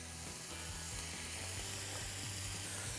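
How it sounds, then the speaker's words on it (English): Burgers sizzle on a CanCooker conversion grill as a constant crackling hiss over a low steady hum, close and unbroken for a few seconds. "I don't know if you guys could hear that sizzle"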